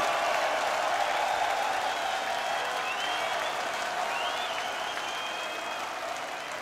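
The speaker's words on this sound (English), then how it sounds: "Every person here, please give yourself a big round of applause" Large festival crowd applauding and cheering at a metal concert at Bloodstock, a loud, dense roar of clapping with whistles rising over it, easing off slightly toward the end.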